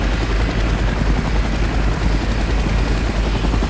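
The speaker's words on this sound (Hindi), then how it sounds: "ये वही चॉपर है जिसपे हमने बंदे मारे हैं, तो ये जा रहा है वापस" A helicopter from the shooter game IGI 2 Covert Strike thrums steadily and loudly, its rotor wash and engine drone filling the whole stretch without a break.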